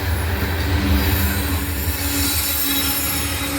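A train rolls past loudly in Abbeville, with a constant rumble of wheels on rails and a high metallic squeal running throughout.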